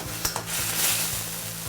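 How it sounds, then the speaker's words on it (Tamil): Tomatoes sauté in a pan for a tomato kurma, a close, steady sizzle and hiss with a few quick stirring scrapes near the start. "இப்போ தக்காளி வதங்கிட்டுருக்கு."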